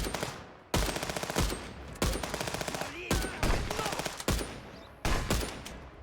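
Single shots and short bursts from a gun in the video game Contraband Police, sharp loud reports with ringing tails repeating every half second to second, with brief mechanical clicks between.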